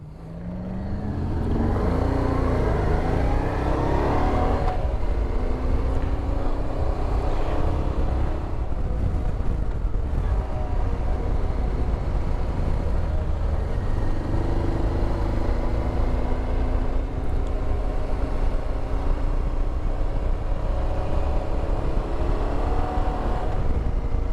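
Motorcycle engine droning steadily as the bike rides the winding Cherohala Skyway, the pitch rising and falling through gear changes over continuous wind rush, close and loud throughout.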